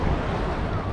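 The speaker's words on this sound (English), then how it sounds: "It's the ocean." Ocean waves and wind at Patong Beach in Phuket, a steady broadband rush with heavy wind buffeting the microphone, loud and close, with no talk.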